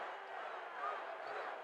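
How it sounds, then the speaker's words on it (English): Wrestling crowd at an NWA Houston match between Tony Atlas and Pak Song, chanting a barking call together in a steady, moderately distant roar of many voices. "Listen to the crowd giving Mark Lewin's tremendous barking call"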